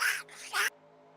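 A voice imitates Donald Duck's squawking quack at a Walt Disney World Speedway race, two quick raspy nasal bursts close to the mic over a low engine-like hum, then quiet.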